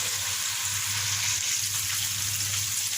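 Tilapia fish fillets frying in hot oil give a continuous loud sizzle and crackle, steady and close, with no pauses.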